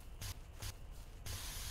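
Spray from a pump tool in the video game Decontamination, cleaning up pollution in the wilds: three short hissing bursts, the last one longer, close and fairly loud with no talking.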